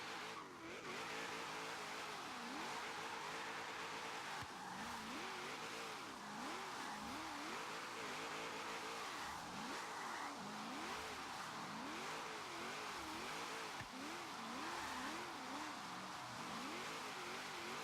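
A car with a drift tune runs test laps, its engine revving up and down in repeated wavering sweeps alongside tire squeal and skidding, steady and fairly close throughout with no talk.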